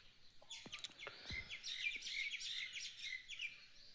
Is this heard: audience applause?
no